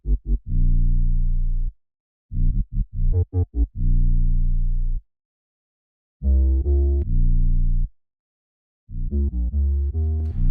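A short, varied 808 bass pattern from a drill beat made in FL Studio, with deep sustained bass notes, quick sliding hits and gaps of silence between phrases, loud and alone.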